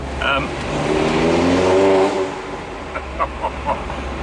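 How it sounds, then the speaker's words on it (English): A loud tuned engine in a 288 BHP R56 Mini Cooper S revs up and holds a strained roar, then drops away, followed by a few short blips of the throttle. "that's a bit of a different noise that comes from my car"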